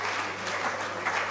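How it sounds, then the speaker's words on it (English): An audience at an innovation challenge award session applauds the winners, a brief burst of steady clapping from a crowd heard at moderate distance, without speech over it. "Oh, we have to give them a round of applause."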